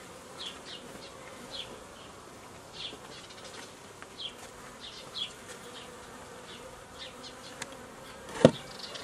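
Honey bees buzz steadily at a beehive near a newly built small landing bridge, a dense low hum with individual bees flitting close by, plus a sharp knock near the end; no talking.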